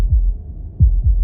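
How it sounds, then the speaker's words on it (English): Low, throbbing heartbeat thuds from the video game Slay the Princess, a few slow beats pulsing over a dull hum with no other sound. "That was the sound of a heartbeat"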